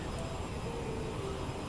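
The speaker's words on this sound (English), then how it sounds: "You're gonna hear the engines, especially in this plane because they're right there." Jet engines of a CRJ-550 regional airliner in the MSFS 2020 flight simulator, heard from the rear cabin close to the tail-mounted engines: a steady, loud broadband roar with a faint whine, constant throughout and without talk.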